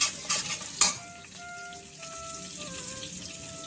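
Oil sizzles softly in a pan as hing (asafoetida) goes in for millet vegetable kichdi, with a couple of sharp clinks at the start and faint tonal squeaks over a low steady fry.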